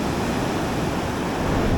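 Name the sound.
waves at Bandialit beach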